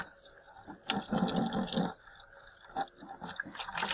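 Water from a tap rinses a dirty, filthy pail bucket, splashing and gurgling in short bursts with brief pauses between them, close and fairly loud.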